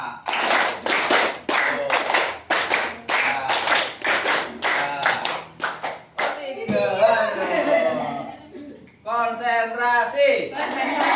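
A group of people claps a counted rhythm in a classroom training session, producing crisp, regular bursts of hand claps for several seconds before they stop, after which a few people talk and laugh briefly.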